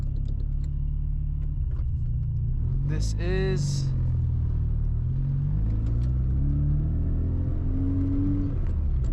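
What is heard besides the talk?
Mazda FC RX-7 interior driving rumble with poly mounts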